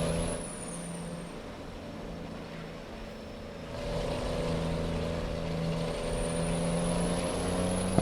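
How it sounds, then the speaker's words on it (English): A heavily loaded truck in a truck driving game drones along with a steady engine rumble, its pitch stepping as the automatic gearbox shifts, and a rise in level partway through. "I can definitely hear the truck shifting harder than it was with the other loads"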